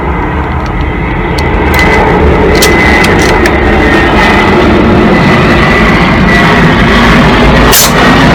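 A plane passes overhead outdoors, a loud broad continuous roar that stays steady throughout, with occasional sharp clicks on top.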